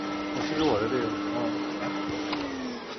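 A small low-power vacuum cleaner runs with a steady whining drone and a sliding motor tone while a person talks over it.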